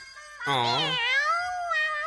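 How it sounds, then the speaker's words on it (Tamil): A single high, wavering kitten meow rises and trails off, close and clear, with no other sound around it. "பூனைக்குட்டி."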